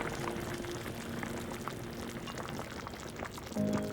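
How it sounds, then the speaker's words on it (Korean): Tteokguk broth with sliced rice cakes, seasoned with soup soy sauce and fine salt, bubbles and simmers steadily in a pot, a soft continuous burble with no talking. "끓어오를 때까지 젓지 마세요"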